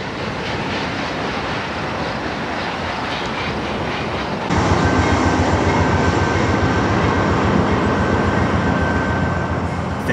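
A freight train with an ex-Burlington Northern caboose rolls past during a large equipment move in Minneapolis, a loud continuous rumble and rattle of wagons that swells midway as the cars draw nearer.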